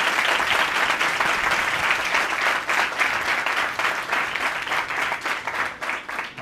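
A church congregation at a Sunday service breaks into loud, sustained applause, dense clapping from many hands filling the room with no break.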